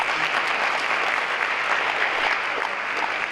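Steady, dense applause from an audience at a 2015 consortium awards ceremony, loud and sustained without a break, with no one speaking over it.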